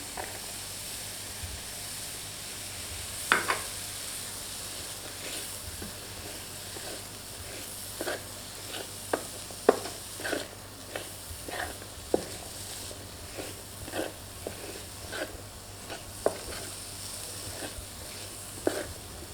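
Vegetable tawa pulao with green onions being stir-fried on a tawa: a soft continuous hiss broken by scattered spatula scrapes and taps, fairly quiet and close, with no voices.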